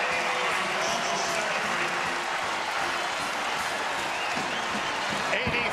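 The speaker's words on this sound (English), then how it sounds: "The final roar of this partisan Tar Heel crowd." A partisan Tar Heel home crowd roars at a 2008 NCAA East Regional Final basketball game as North Carolina beats Louisville, a dense, loud, sustained wall of cheering and clapping that holds steady throughout.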